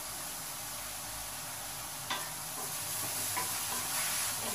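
Green chilies sizzle with red spinach in a frying pan, a steady crackling hiss with a few sharper stirring scrapes partway through, close and continuous with no talking.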